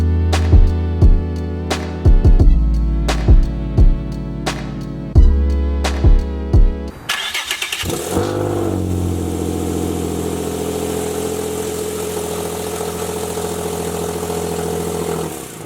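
A Nissan 350Z engine with an exhaust leak, first blipped in a string of sharp, loud revs, then settling into a steady, throaty idle with a faint ticking rasp, close and dominant throughout.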